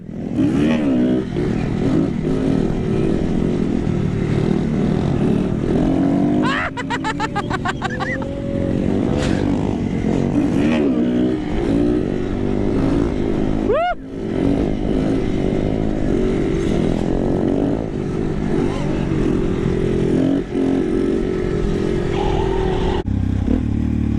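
A Suzuki DRZ 400 SM motorcycle revs and rides around a lot, loud and close with rising and falling engine pitch, a sharp rattling burst midway, and voices shouting under the noise.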